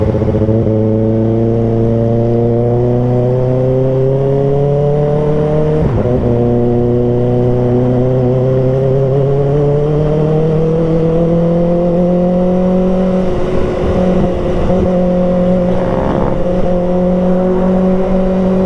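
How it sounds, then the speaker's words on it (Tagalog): Kawasaki ZX-6R sport bike engine revving hard on a ride, a loud continuous high-pitched whine that climbs steadily in pitch, drops briefly during a gear change, then rises again. "Walwal talaga yung gusto nitong motor na to."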